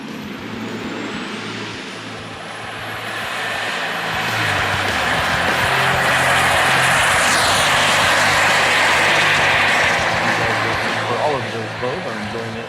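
An RC jet aircraft taxis and takes off at an outdoor air meet, its turbine whine and roar swelling louder as it accelerates, then easing slightly, with faint background voices.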